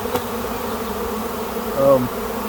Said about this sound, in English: This is actually one of the biggest swarms I personally have ever caught.